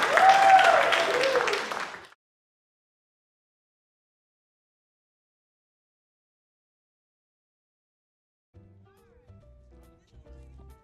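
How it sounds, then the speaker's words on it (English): Applause from an audience at a high school film festival, a broad burst of clapping for about two seconds that cuts off sharply, followed by long silence and faint low sounds near the end. "let's one more time give them a round of applause"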